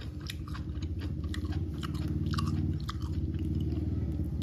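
Close, steady chewing and biting of bitter rattan shoot soup at a lunchtime meal, moist crunchy mastication repeating continuously with no talking.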